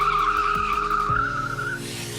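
Rear tyre of a 2021 KTM 890 Duke motorcycle skids in a slide, a loud sustained squeal over the engine's pulsing drone, easing off near the end.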